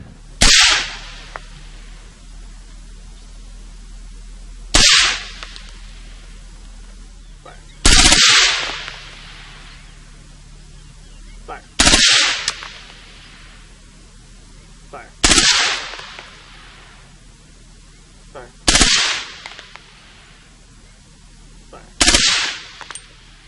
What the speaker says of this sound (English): This is a Colt AR-15. With a select fire lower, which means it's a machine gun as well